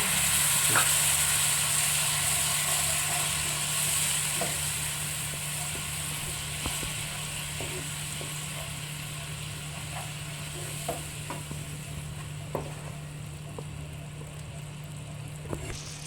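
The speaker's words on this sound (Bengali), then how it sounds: "কষবো, মশলা যেন লেগে না যায়।" Spice paste (masala) sautéing in a pan with about half a bowl of water added for potato and pointed gourd curry, a steady soft sizzle with occasional scraping stirs, close and continuous.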